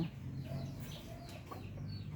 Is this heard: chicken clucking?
yes